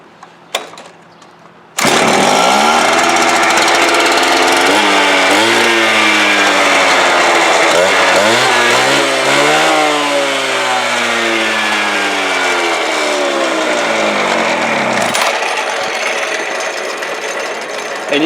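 A gas-powered demolition saw starts and runs, its engine revving up and down in loud harmonic sweeps for about thirteen seconds before being switched off and winding down.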